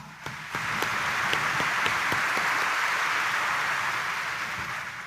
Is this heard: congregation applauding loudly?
yes